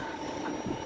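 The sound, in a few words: Czech train running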